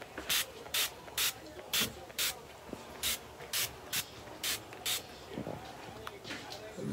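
NYX Dewy Finish makeup setting spray is misted onto a face in about eleven short, crisp hissing bursts with brief pauses between them, close and clear over a quiet room.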